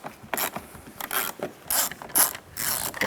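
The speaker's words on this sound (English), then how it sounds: "Using a 7mm socket, take this screw out." A ratchet with a 7mm socket backing out a screw on a Dodge Durango door, rapid pawl clicks in several short bursts with brief pauses, close and clear, no voices.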